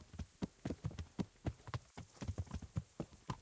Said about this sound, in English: It sounds like there's a horse to my right